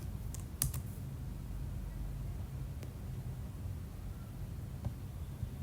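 Keys tapped on a computer keyboard while entering code, a few light clicks and short bursts of typing over a quiet, steady room hiss.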